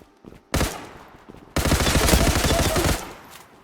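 Gunfire in the online shooter Zula: a short burst, then a longer sustained volley of rapid automatic shots, loud and close, with brief gaps between.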